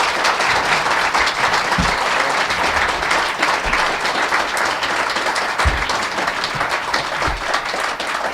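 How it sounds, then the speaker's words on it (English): An audience at a poverty policy panel applauds the panelists, a sustained, dense round of clapping from many hands lasting several seconds, loud and close. "Can we give our panelists a round of applause?"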